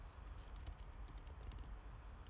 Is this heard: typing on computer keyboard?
yes